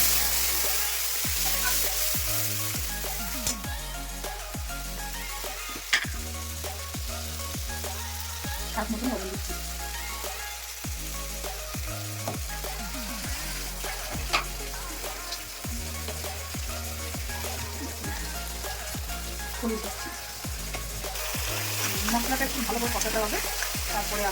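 Cumin seeds and spices frying in hot oil in a home kitchen, a steady close crackling sizzle with sharp pops and stirring clatter, continuing alone without talk.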